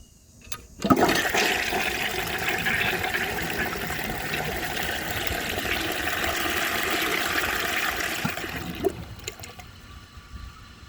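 A 1950s Kohler Trent toilet flushes with a loud, steady rush of water lasting about eight seconds, then tapers into quieter trickling and refilling as the bowl empties.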